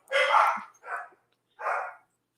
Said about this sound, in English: Of course, we have dogs in the background.